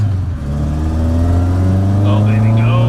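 A car engine accelerating toward highway speed, holding around 4,000 rpm with a broken speedometer; a steady, loud, close drone with rising harmonics, with a person talking over it.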